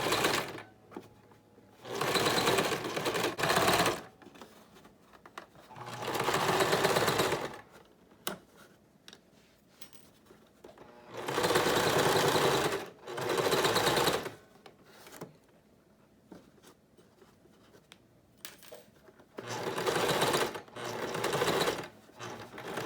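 Cotton fabric face mask running through a sewing machine in several loud bursts of rapid stitching, each a few seconds long, separated by quiet pauses.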